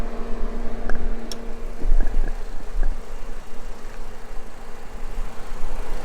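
A 2018 Nissan Sentra SV engine idles nearby with a steady low rumble and hum, broken by a few faint clicks and ticks.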